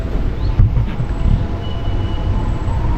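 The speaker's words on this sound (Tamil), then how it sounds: "ட்ரெயின் டிபார்ட் ஆயிடுச்சு." An Amritha Express passenger train pulling away, a loud continuous rumble of wheels and carriages close by with a faint high squeal above it, and no talking over it.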